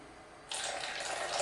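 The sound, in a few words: cold water running from a tap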